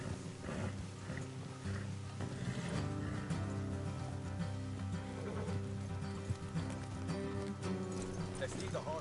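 Horse hooves clop in Red Dead Redemption 2, a steady, muffled patter of footfalls in a game scene, heard under voices talking.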